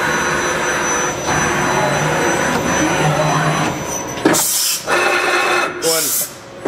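A Fanuc Robodrill T14iA machining center with Fanuc 16iM control runs its spindle at 2,500 RPM, giving a steady, close mechanical whine and hum, with two loud hissing bursts near the end.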